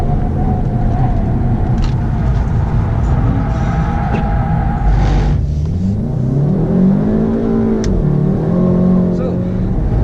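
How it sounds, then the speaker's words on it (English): A Volkswagen GTI lapping the Sepang circuit at night, its engine droning steadily and then rising in pitch as it accelerates, loud and close throughout with a continuous road rumble underneath. "how does the GTI feel like? Superb, especially when you let it loose on track like this"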